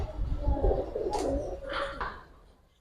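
Giribaz and coloured pigeons coo in a low, soft burble close by, with a few brief higher rustles or flutters partway through before the sound fades out.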